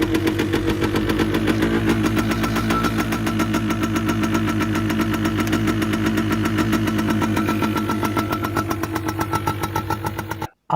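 A Yamaha DT125 R two-stroke motorcycle engine running close by, a loud, steady buzzing idle with rapid pulsing firing strokes, cutting off abruptly at the end.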